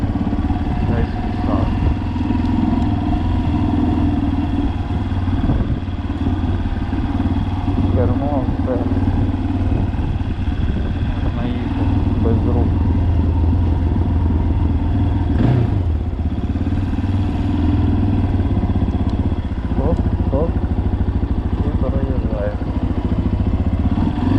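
A Tekken 300 motorcycle engine runs steadily throughout, a loud low rumble with occasional clatter, while someone talks over it.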